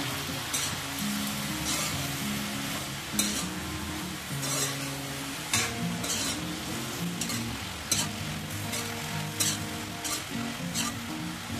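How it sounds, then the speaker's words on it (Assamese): A spoon stirs jackfruit curry with turmeric in a sizzling pan, a steady close frying hiss under repeated scraping and clinking strokes, with no talk. "হালধি দি দিছোঁ। এতিয়া ভালদৰে লৰাই দিম।"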